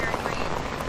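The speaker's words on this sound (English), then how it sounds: "Oh my God, the rain just turned up in intensity again." Heavy rain pouring down outdoors at Lake Norman in Mooresville, North Carolina, a dense loud continuous wash of drops over a short stretch with no clear speech.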